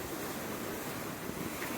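Powerful waves crash against rocks along the New Zealand coast in a steady, close roar of surf and churning water, with wind buffeting the microphone and no voices.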